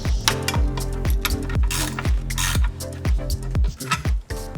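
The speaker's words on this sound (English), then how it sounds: "So we're going to start by removing this nut and bolt right here" A hand ratchet loosening a nut and bolt in the engine bay of a Mitsubishi EVO VIII, a rapid, loud run of clicking pawl strokes repeated in quick bursts, close up with no speech.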